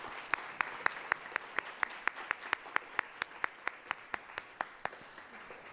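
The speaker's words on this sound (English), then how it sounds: "Let's give them a round of applause" A steady round of applause from a conference audience honouring presenters at an AI event, faint and even with rhythmic claps standing out, little speech.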